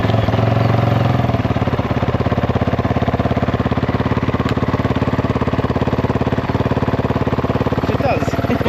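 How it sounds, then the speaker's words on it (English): A Kove 450 Rally motorcycle engine fires up and settles into a steady, fast, even idle chug, loud and close throughout with no talking. "if all's working, the bike should just start straight up."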